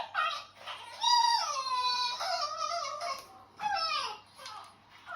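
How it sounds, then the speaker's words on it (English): A baby fox's high, wavering cries and whimpers come in repeated bursts close by, with a short gap before a final rising squeal; a pet dog is present reacting to it. "That's a baby fox, and it was making this noise, and my dog was in there, and he saw that, and that was his reaction."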